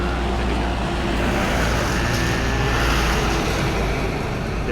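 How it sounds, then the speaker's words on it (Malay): Steady road traffic noise from passing vehicles fills the scene, a continuous loud rumble with low-frequency hum, recorded outdoors on an Insta360 X5 mic test without talk. "So kat sini memang bunyi dia agak riuh sikit, ada bunyi kenderaan dan sebagainya."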